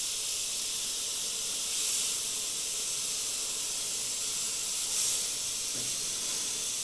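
An airbrush with a 0.3 mm needle and nozzle, air cap removed, sprays fine lines with a steady, close hiss that swells briefly twice.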